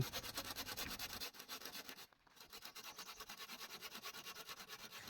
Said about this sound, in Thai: และเราใช้เลื่อยทำการตัดไม้ไผ่ได้เลย